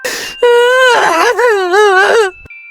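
A loud, drawn-out wailing cry with wavering pitch rises and falls for about two seconds before stopping, close and alone.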